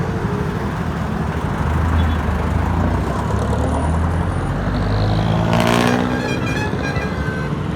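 Dense night traffic in Metro Manila, heard from a Mio Gear 125 scooter: a steady roadway roar of cars, trucks and motorcycles that stays close and loud throughout, with a brief brighter swell near the end.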